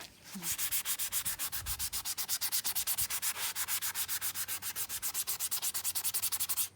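Steady rhythmic sanding of rock and spackle, a fast back-and-forth scratchy rasp repeating throughout, close and fairly loud with no talking.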